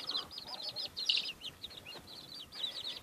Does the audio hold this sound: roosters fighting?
yes